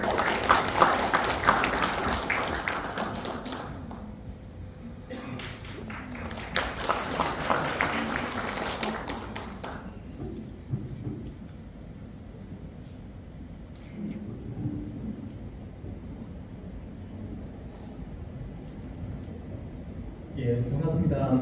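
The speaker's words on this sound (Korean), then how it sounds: "박수로 환영해 주시기 바랍니다." An audience at an anniversary ceremony and industry-academia forum claps in welcome, bursts of applause rising and falling over roughly ten seconds, then fading into room murmur and a speaker's voice.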